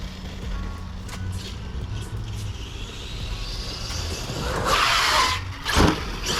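An Arrma Outcast 8S RC car on two Chicagoland 4S 6600 mAh batteries whines along on a wheelie, motor and tyre noise rising into a louder surge near the end, heard from a short distance with no talk.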